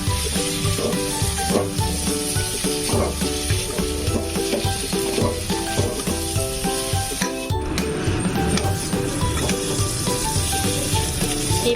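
Pre-fried tofu sizzles and fries in an oily spice masala in a pan, a steady loud crackling sizzle with occasional stirring clatter and no talking.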